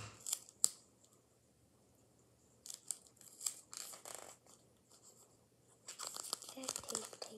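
Scissors snip through tape in short bursts with crinkling and tearing, close and fairly quiet, with pauses of near silence between the cuts.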